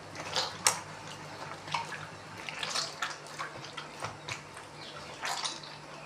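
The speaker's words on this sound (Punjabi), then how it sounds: "ਹੁਣ ਇਸ ਆਟੇ ਨੂੰ ਨਾ ਆਪਾਂ ਇਦਾਂ ਪਾਣੀਆਂ ਦੇ ਵਿੱਚ ਧੋਈ ਜਾਵਾਂਗੇ" Wheat flour dough being washed by hand in water, soft irregular splashes, sloshes and drips close by, quiet with short louder bursts.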